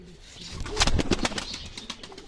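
A Sivas pigeon coos nearby with a brief burst of wing flapping, short and close.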